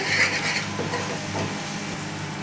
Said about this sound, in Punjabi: ਹਲਦੀ ਨੂੰ ਆਪਾਂ ਚੰਗੀ ਤਰ੍ਹਾਂ ਭੁੰਨ ਲਵਾਂਗੇ